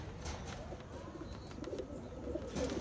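Sabza pigeons coo softly in low, repeated murmurs, close by, with faint background noise and no talking.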